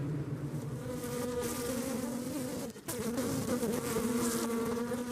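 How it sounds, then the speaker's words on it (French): A dense, steady hum of a disturbed honeybee colony buzzing inside a hive, continuous and close, with a brief dip partway through. "Un son qu'on appelle le chant des abeilles ouvrières, qui est un signal d'une ruche perturbée."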